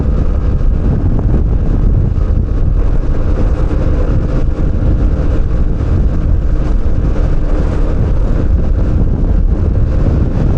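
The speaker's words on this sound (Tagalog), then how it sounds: "Yuko, lakas ng hangin eh." Strong wind roars over the microphone while riding a motorbike, a loud, constant buffeting rush that fills the whole stretch with no letup.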